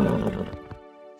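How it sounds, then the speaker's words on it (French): A cartoon Pegasus horse gives a short, bright neigh that falls away with a ringing tail, close and clear and heard alone. "C'est le cheval Pégase!"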